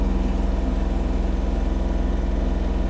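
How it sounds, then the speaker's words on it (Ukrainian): A Kubota GL-320 Japanese mini tractor creeps along in low range, first gear at its slowest speed, its small engine putting out a steady close pulsing chug with an even throbbing rhythm. "Давайте ще покажу, яка може бути мінімальна швидкість трактора."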